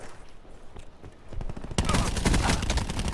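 An MX-9 gun in a video game opens up in a loud, dense automatic burst that starts abruptly partway through and continues rapidly to the end, following quieter ambient game noise.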